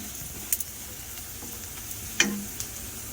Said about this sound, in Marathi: आता आपण टाकूया चपाती जसं आपण सगळ्या भाज्या बिज्यांना फोडणी देतो ना